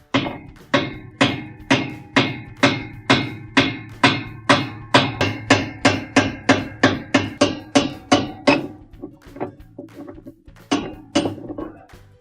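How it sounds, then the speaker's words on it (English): A hammer taps a washer's spanner nut (part WP21366) counterclockwise to free it. About twenty sharp metallic strikes come in a quick, even rhythm, close and ringing, then slow to a few scattered knocks at the end. "we're going to take the hammer and just tap it a couple of times to loosen it"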